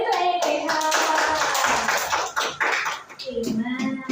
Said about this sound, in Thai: ปรบมือให้ตัวเองเลยค่ะ